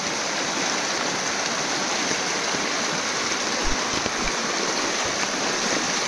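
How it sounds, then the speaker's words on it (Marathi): Water rushes steadily down a stream where crabs are caught by the traditional method, a loud, constant, close wash of flowing water with a couple of faint low thumps and no voices. "पाणी पूर्ण खाली वाहून नेतंय."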